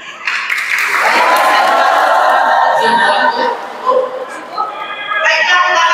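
An audience at a 2024 regional election debate in Sragen breaks into loud applause, a dense crowd clapping that swells quickly and holds, with a few shouts rising above it.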